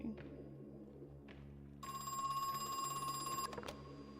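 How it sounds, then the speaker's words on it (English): A telephone in the survival horror game Crow Country rings with a bright electronic trill lasting a couple of seconds over a low, droning ambient game backdrop. "Phone's ringing."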